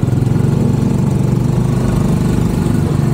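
A motorcycle engine idles close by, a loud, steady low chugging pulse that continues evenly throughout with no other sound.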